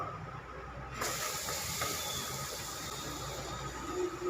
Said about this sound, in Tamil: நம்ம நறுக்கி வச்ச வெங்காயத்தை போட்டுக்கலாம்